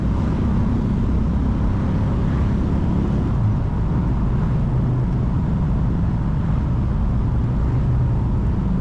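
A classic pre-catalytic-converter car engine with straight-pipe exhaust and a compression ratio altered for emissions rumbles steadily and loudly throughout, a dense, continuous low drone with no voices.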